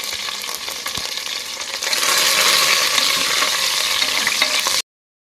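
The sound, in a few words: onions frying and being stirred in a pan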